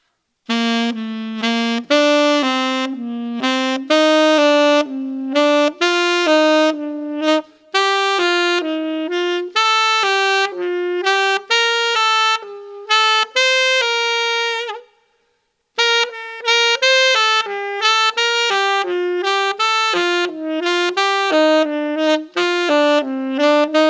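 A solo saxophone plays a stepwise note pattern climbing and descending a major scale, clear and close, with short breaks between phrases.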